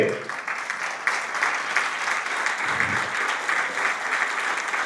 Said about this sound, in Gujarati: ઊભા થઈ દરેકને તાળીઓના ગગડાટ સાથે